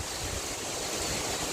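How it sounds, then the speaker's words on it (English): Hurricane Milton in Plant City, Florida: steady, dense rushing wind with a broad roar that sounds like water, continuous and unbroken, with no voices. "The wind is increasing"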